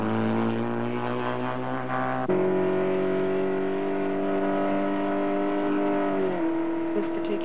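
Race cars on a race track roar past in a loud, continuous engine drone, a sustained high whine that shifts pitch abruptly as the field accelerates, with no voices.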